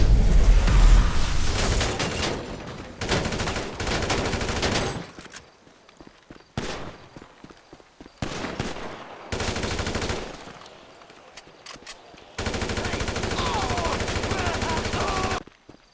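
Gunfire in Grand Theft Auto V, loud bursts of rapid automatic fire coming in several separate volleys with short gaps of quieter sound between them.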